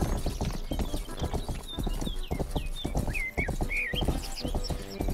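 Horse hooves clip-clopping in the video game Rustler, a rapid run of close hoof beats on a hard surface with occasional squeaky animal sounds mixed in.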